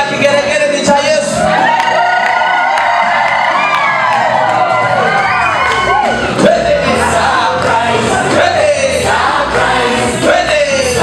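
A church audience in Hamar, Norway breaks into sustained high-pitched ululation mixed with loud cheering, shouting and whoops that fill the whole stretch.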